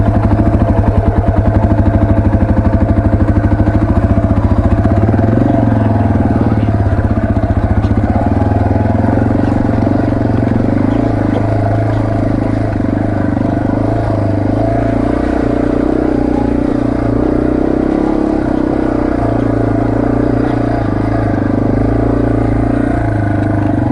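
A dirt motorcycle runs along a rough creek trail, its engine droning loud and close throughout, rising and falling as it revs, with rattling and clatter from the bumpy ground beneath.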